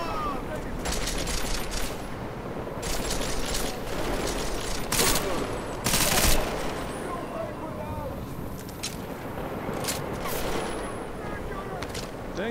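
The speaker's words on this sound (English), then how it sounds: "Dang, lady. You're shooting me." Gunfire in the video game Deus Ex: Mankind Divided comes as dense bursts of shots and rattling fire over a busy mix of game sound. Someone talks over it.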